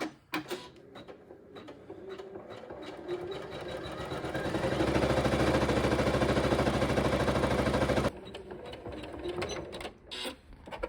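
A single-needle embroidery machine stitching a design onto a sleeve, running with a rapid, steady mechanical clatter that builds and holds for several seconds before stopping abruptly, with lighter handling clicks around it and no talk.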